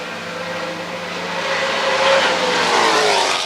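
Dennis Mills's little Datsun race car sweeps past on a circuit at a historic motor racing meeting, its engine roar swelling loudly as it nears and holding strong through the pass.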